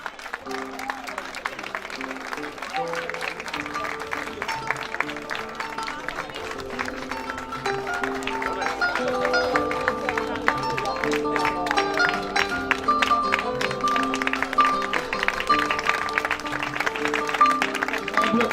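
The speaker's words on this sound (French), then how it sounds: "sous vos applaudissements" Audience at the Saint Louis Fashion Week show applauding as a collection is introduced, sustained clapping that swells and thickens over the stretch, with music and a presenter's voice under it.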